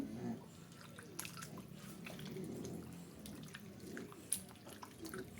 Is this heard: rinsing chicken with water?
yes